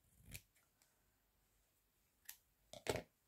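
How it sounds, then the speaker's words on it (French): Scissors snip through a small piece of scrap paper during a paper embellishment craft, giving a few short sharp cuts spaced apart, close and quiet. "je prends les ciseaux, j'en coupe un petit bout."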